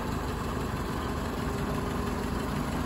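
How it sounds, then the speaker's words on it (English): A 1956 Ford model 640 tractor engine of about 30 horsepower idles steadily nearby, a continuous low chugging rumble with a faint vibrating knock, heard alone with no talk. "It's a real sweet running little tractor."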